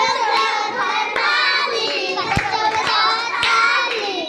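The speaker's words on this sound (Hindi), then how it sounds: "बच्चों बजाओ ताली" Class-1 children in a Bihar government school clapping along while chanting together, a few sharp claps scattered under loud group voices.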